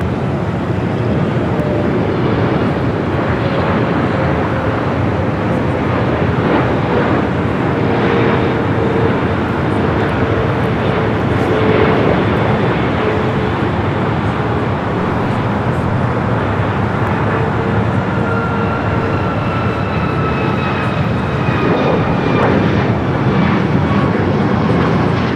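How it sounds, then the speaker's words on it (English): Twelve-year-old Boeing 777-300ER airliner arriving at Los Angeles LAX from Hong Kong, a steady loud jet roar that swells and holds for the whole stretch with faint traffic beneath and no talk. "Flight 884 coming from Hong Kong, a 12-year-old 777 at 300ER."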